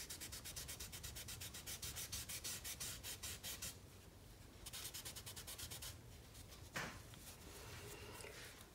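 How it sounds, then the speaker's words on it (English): A chamois cloth rubs over graphite pencil shading on paper, making quiet, rhythmic back-and-forth swishing strokes that pause briefly midway and then resume, with one sharper scrape near the end. "Kind of rubbing the chamois along it."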